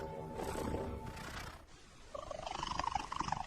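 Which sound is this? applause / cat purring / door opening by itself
cat purring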